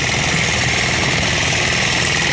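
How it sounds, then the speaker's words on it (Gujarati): An engine-driven cutting machine running loud and close, a constant rough mechanical roar that holds steady with no pauses or voices. "આ મશીન તમે જુઓ કેવું કાપે છે"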